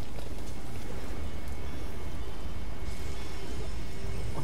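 Steady rain in the video game Detroit: Become Human, a dense continuous hiss of falling water with a low rumble, filling the whole stretch at an even level with no talk over it.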